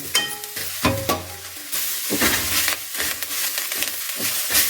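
Shallots and medicinal herb leaves sizzle in a hot pan while a spoon stirs them, with crackling frying hiss and scraping, clattering stir strokes up close.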